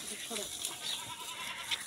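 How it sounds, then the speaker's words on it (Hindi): A goat bleats inside a goat shed, a few short wavering cries heard fairly close, with a person talking alongside and light rustling in the background. "अब गौशाला के अंदर जाते हैं और यहाँ है एक बकरी"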